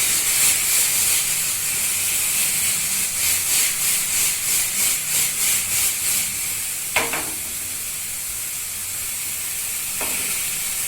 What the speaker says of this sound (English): The pan is very hot right now. I'm giving a good toss.